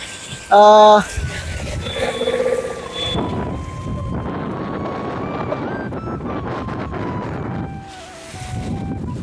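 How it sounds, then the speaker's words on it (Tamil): Strong wind gusting across floodwater in a flooded rural area of Batticaloa, Sri Lanka, roaring steadily into the microphone, with a person talking intermittently over it. "காற்று தான் ரொம்ப அதிகமாக இருக்குது"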